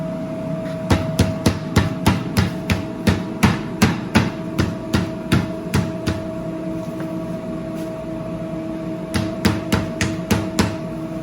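A wet mallet pounds thin pieces of pasta dough flat in steady, evenly spaced strikes, loud and close, with a pause of a couple of seconds before a final run of quick blows over a faint constant hum.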